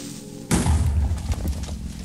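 A Minecraft explosion bursts in suddenly as a loud, deep boom after a quieter moment, then rumbles and crackles away over the next second or so.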